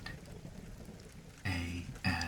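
Soft steady rain falls with low rumbling bursts of thunder, faint and calm throughout.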